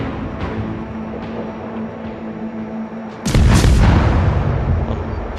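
Heavy naval guns fire in World of Warships during a close battle, a loud deep boom bursting in suddenly after a steady engine-like rumble and rolling on for a couple of seconds.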